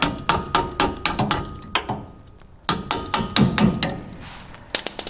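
Sharp metallic hammer taps drive a bolt through a sway bar bushing during a front and rear sway bar install on a Chevy/GMC truck, coming in quick close bursts of several strikes with short pauses between groups.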